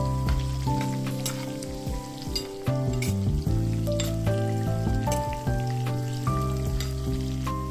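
Cumin and mustard seeds with dals sizzle and crackle steadily in hot oil, with occasional stirring noises over a dense, continuous frying hiss and no talking.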